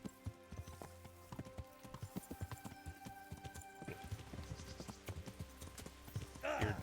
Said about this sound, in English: I'm so bad at riding horses in this game